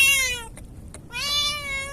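A cat meows twice, close and loud, with a short gap between the two drawn-out calls, near the water during a popper fishing trip for trevally.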